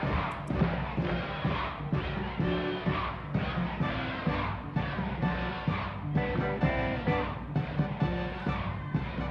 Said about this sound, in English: I've never heard this crowd get this loud.